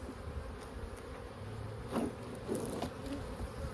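Bees hum steadily around an abandoned hive, a soft continuous drone with a few nearer buzzes passing close by.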